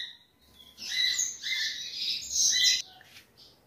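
Female canary in a cage chirping in bright, rapid twittering bursts, clear and close, with short pauses between phrases and no talking.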